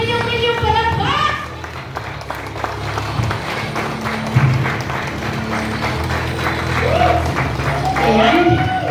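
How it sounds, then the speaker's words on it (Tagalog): An audience welcomes a special guest at a morning school event with a run of rhythmic clapping, set between stretches of a host talking over a microphone. "Bigyan naman po natin ng milyong-milyong palakpak."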